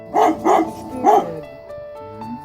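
A dog barks three times in a quick, loud run near the listener, then gives softer whining, yelping calls as it greets its owner, who has come home much thinner after losing a lot of weight.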